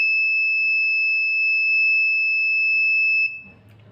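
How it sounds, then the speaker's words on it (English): An 8051 microcontroller door lock sounds its buzzer after a wrong password, giving a steady, piercing electronic tone held for over three seconds before cutting off, followed by faint room noise. "It's a wrong password and the buzzer is turning on."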